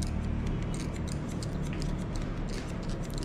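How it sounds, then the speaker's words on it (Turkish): Barber's scissors snip hair during a fade haircut in a barbershop, a quick run of crisp, closely spaced clicks over a steady low background hum. "Şimdi ona makasa alıştıracağım."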